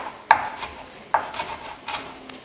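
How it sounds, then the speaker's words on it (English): A knife roughly chops hot red peppers on a board, giving a few sharp, separate cuts spaced about a second apart, close and fairly quiet. "So I'm just roughly chopping my hot red peppers so that I can measure them."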